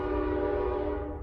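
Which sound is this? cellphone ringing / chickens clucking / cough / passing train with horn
passing train with horn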